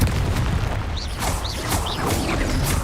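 A Confringo fire-blast spell goes off in Hogwarts Legacy, loud and close amid a dense, continuous rumble of booming impacts and whooshing combat effects running the whole time.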